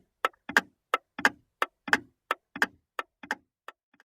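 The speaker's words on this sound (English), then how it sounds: "All the clocks made a loud sound." Many clocks tick in an old clock shop, a loud, irregular run of sharp, close clicks with overlapping beats and no voices.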